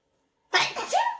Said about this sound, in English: Oh, hold on, I'm going to sneeze.